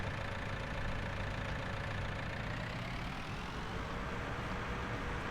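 Game engine of a John Deere tractor in Farming Simulator, a steady mid-low droning hum that runs unbroken and fairly loud, with no talk over it.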